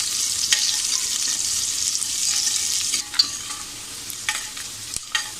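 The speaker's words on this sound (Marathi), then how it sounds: "आपल्याला असं मध्य आचेवर छान असं कांदा असा लाल रंगावर येईपर्यंत आपल्याला परतून घ्यायचं आहे" Onions sautéing in a pan over medium heat, a bright, loud sizzle with repeated scrapes and taps of a spoon stirring, the hiss easing slightly toward the end, no voices.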